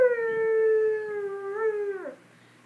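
A person imitates a female wolf's howl, a single sustained, steady mid-pitched tone that slides downward and breaks off at the end, close and clear with no other sound.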